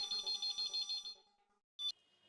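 An office telephone at an electronics shop rings in a rapid repeating electronic trill of about six bursts, then stops; after a short silence a brief loud click or clatter follows as the handset is picked up.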